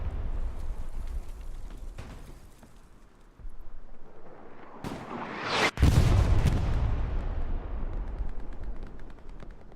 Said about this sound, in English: Looks like an AT gun.